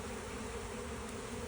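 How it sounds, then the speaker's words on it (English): A honeybee swarm fans at a hive entrance, a steady, faint, even buzzing hum from many wings held close with no voices. "watch these bees for a little while."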